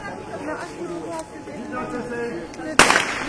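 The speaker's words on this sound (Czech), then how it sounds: "startujeme na výstřel." Starting gun fired for a local running race, a single sharp crack late in the clip standing out over a crowd's chatter and background noise.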